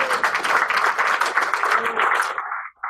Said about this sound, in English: round of applause for making sure that John got here